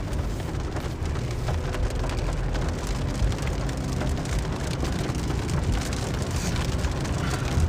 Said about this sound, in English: Can't really see much right now because we're kind of in the rain.